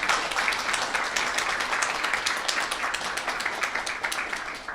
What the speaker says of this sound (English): Can we give Mohammed a round of applause, please?